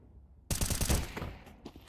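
Counter-Strike gunfire during a competitive CSGO match: a sudden close burst of rapid shots after near silence, followed by a few fainter trailing cracks.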